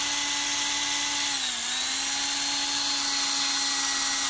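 A Parkside drill runs with an off-centre, poorly ground bit for wood and stone and shakes as it bores. It gives a loud, steady whine with a slight dip in pitch midway.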